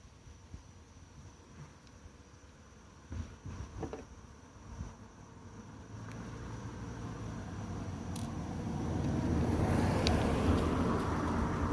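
A car passes outside, its broad road rumble building gradually and swelling to a loud peak near the end, after a few earlier small clicks and handling noises nearby.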